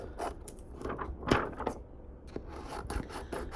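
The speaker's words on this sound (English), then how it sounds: "I like to just trim all of the edges just in case" Edges of printed white-toner transfer sheets being trimmed: short, close paper cutting and rubbing sounds in quick, uneven strokes, fairly quiet, without speech.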